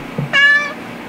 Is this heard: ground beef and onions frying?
no